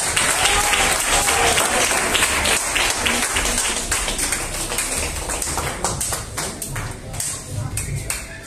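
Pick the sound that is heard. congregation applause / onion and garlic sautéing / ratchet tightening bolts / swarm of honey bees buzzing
congregation applause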